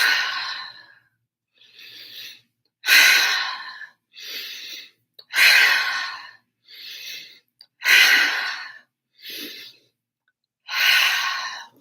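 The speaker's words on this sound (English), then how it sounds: "Breathe it in." Deep breaths drawn in and let out during a guided meditation, each hissing inhale and exhale clearly audible and close, in a slow, regular rhythm of about eight to ten breaths with short pauses between, no talking.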